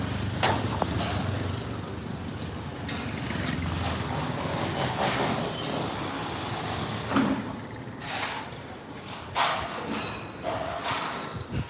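Busy street traffic in Cambodia or Vietnam, with a tuk-tuk and other vehicles passing close by, engines rumbling continuously alongside a hiss like an air brake and scattered thumps.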